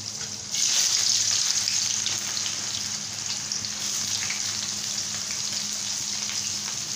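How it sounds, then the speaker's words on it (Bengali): Chopped onions fry in hot oil in a wok, a steady loud sizzle starting abruptly and continuing evenly with a faint watery crackle throughout. "এখন এই পেঁয়াজটা লাল লাল করে ভেজে নিব।"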